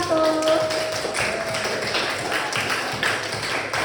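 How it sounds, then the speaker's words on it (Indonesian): A classroom audience applauds a student group with steady, moderately loud clapping and taps lasting throughout, alongside a faint tonal background sound and some murmured talk. "Aplaus dulu untuk kelompok 1"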